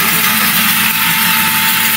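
A Veronica kitchen blender runs at its top speed setting with the lid on, giving a loud, steady motorized whir with a constant high-pitched hum and no pauses.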